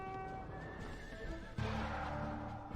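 Horses neigh in a Rise of Nations real-time strategy battle: a shrill whinny rises over game ambience, then a lower, rougher burst of noise follows with a sudden knock at the end.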